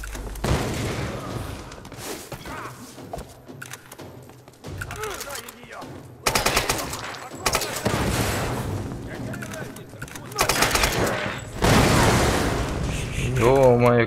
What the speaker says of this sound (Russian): Какие тут пошли взрывы эпичные